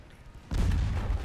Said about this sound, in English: we're going to put the main guns on you, secondary guns on the front guy